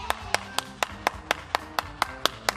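Eleven evenly spaced hand claps from a single person, steady and sharp, during an online Sunday children's worship program, ringing out alone with a faint hum beneath.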